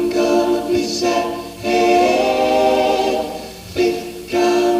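Close-harmony vocal group singing the ending phrase of "Ticket to Ride" as a stacked four-part chord, with sustained blended voices swelling in several loud phrases separated by brief breaths.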